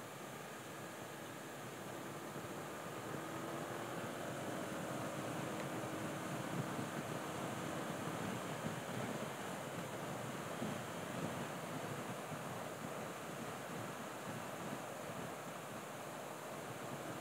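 Ocean surf at Samas Beach, a steady broad wash of waves with wind buffeting the microphone, continuous and fairly loud throughout with no voices.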